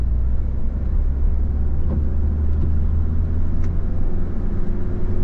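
Steady low engine rumble of a car pulling onto a road from an exit during a driving lesson, continuous and close from inside the cabin, without any marked rise.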